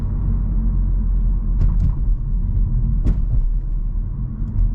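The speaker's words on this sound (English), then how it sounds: "let's go over these bumps and see how it handles it" A 2024 BMW M2 rolls over rough road bumps, a steady low cabin rumble with a couple of brief thumps from the suspension as the car crosses each bump, with no talking.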